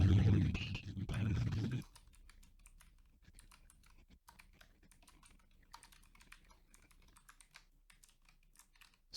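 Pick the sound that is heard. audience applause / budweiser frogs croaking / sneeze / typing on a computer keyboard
typing on a computer keyboard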